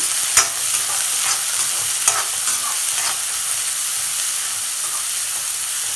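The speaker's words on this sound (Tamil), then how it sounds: "வெங்காயத்தை வந்து லைட்டாக வதக்கிக்கலாம்" Onions sauté steadily in hot sesame oil, with occasional clicks and scrapes of a spoon stirring the pan, close by and without talking.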